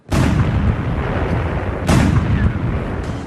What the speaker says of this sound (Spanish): Cuando uno de esos disparos da en el blanco, este es identificado por el cañón principal, que entonces hace su tiro.